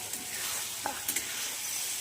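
Red amaranth leaves frying with peanuts in oil, a steady close sizzle with a couple of brief stirring scrapes, no talk.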